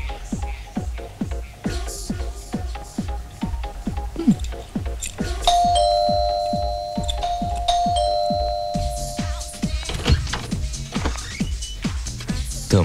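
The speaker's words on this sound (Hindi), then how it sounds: "तो फिर घंटी क्यों नहीं बजाते?" An electronic doorbell chimes in a Bollywood film scene, a sustained ringing tone over several seconds amid rhythmic tapping and background noise.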